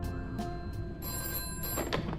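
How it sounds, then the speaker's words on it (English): A telephone rings in a Five Nights at Freddy's fan game, its electronic bell tone sounding in repeated short bursts over a low droning background. "So once we enter the night section, we get this phone call."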